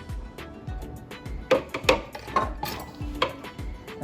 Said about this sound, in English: I'm going to use the same spoon to measure out my tahini.